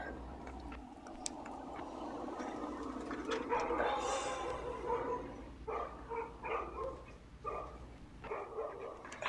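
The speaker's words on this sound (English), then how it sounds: "I can hear a dog" A dog barks and yips somewhere in a seaside suburb in the morning, faint and distant, heard in short bursts over low street background noise.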